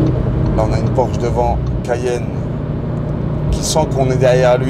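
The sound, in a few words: car engine accelerating while following a Porsche Cayenne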